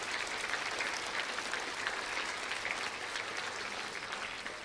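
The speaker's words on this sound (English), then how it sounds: "you can clap for them, too" Audience clapping after a school stage play at West Florida Baptist Academy: a steady, dense wash of applause at moderate distance, sustained throughout at an even level.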